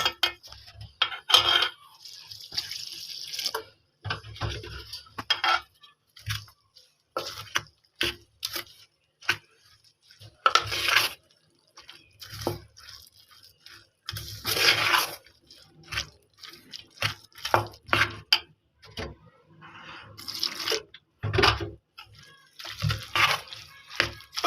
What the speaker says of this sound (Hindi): तो अब इन सब चीज़ों को अच्छी तरह से मैं मिक्स करूँगी।